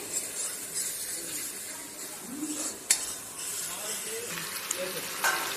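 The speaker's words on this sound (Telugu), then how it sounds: "చికెన్ వేసిన తర్వాత ఇలాగ ఫ్రై చేసుకోవాలి" Chicken curry fries in a large pan: a faint, low sizzle and hiss with occasional stirring scrapes and utensil taps, while someone speaks softly nearby.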